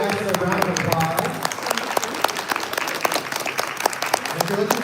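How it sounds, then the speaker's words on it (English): A crowd applauds panel guests at the Anirevo 2025 anime convention, dense continuous clapping at a steady loud level throughout. "Please give our guests a round of applause."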